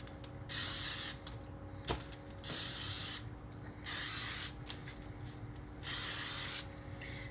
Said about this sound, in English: the recipe says to spray it with cooking spray on the top and the bottom